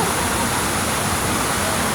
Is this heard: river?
yes